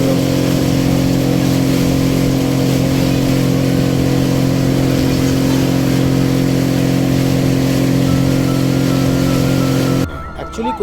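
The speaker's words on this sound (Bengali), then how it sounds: "এই যে নৌকাগুলো যাচ্ছে না, সবই মাছ ধরার নৌকা" Motor fishing boats pass close by on the water on the way toward a mangrove forest near Digha, their engines droning in a steady loud hum for about ten seconds before fading out abruptly.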